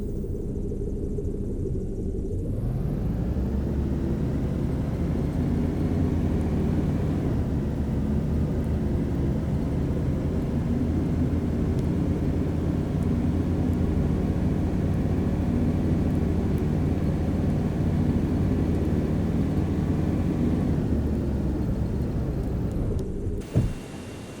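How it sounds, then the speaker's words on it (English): A steady, loud engine roar from an airplane taxiing on a runway in the AirportSim game, rising in and holding as a continuous drone for over twenty seconds before cutting off near the end. "can hear an airplane taxiing"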